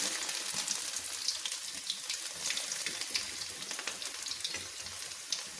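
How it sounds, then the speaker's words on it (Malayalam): Ginger, garlic, green chilli and curry leaves sauté in a hot pan for Kerala-style lemon pickle, giving a steady, close, bright sizzle with faint stirring crackles throughout. "വെളുത്തുള്ളി, പച്ചമുളക്, കറിവേപ്പില എല്ലാം കൂടി അങ്ങോട്ട് വഴറ്റിയെടുക്കാം."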